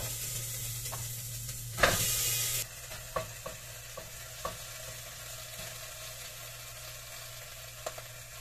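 Pork being shifted from a frying pan into a cooking pot, with a loud burst of sizzling and frying as the meat goes in, then a steady hiss with scattered clinks and scrapes of utensils against cookware.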